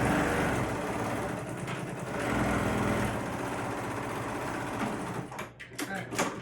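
A sewing machine stitches a fabric crossbody bag closed, its fast, even mechanical whir running close and steady before slowing into a few short bursts and stops near the end.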